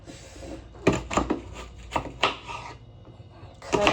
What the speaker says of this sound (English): this is how I cut my onions